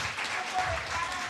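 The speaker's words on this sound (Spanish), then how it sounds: "y un aplauso" A short burst of scattered clapping from a crowd at a Ríos Vivos movement gathering, fairly faint and brief.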